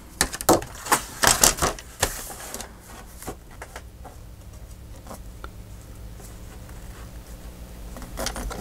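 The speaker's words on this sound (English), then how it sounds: "I'm going to cut just a smidge" Scissors cutting a small strip of paper off a file folder: a quick series of close, crisp snips and paper rustles in the first two seconds, then quiet handling with a few faint clicks and one last snip at the end.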